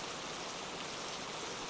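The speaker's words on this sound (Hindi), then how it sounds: "अचानक से मौसम बदल जाता है और बहुत तेज बारिश होती है।" Sudden heavy rain pours down over Sultanpur as a dense, steady hiss of drops drumming on surfaces, loud and unbroken throughout with no voices.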